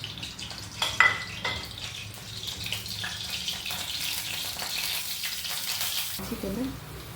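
Nigella seeds and a bay leaf sizzle in hot oil in a home kitchen for Bengali patol posto, a steady bright frying hiss with a few stirring clinks near the start, ending abruptly as the sizzle drops away.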